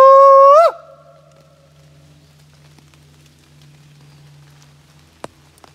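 A man gives a single loud, sustained howl in rainy woodland at Roraback Wildlife Management Area, imitating a Bigfoot call; the wavering, rising cry lasts under a second, then soft rain and a low hum fill the rest.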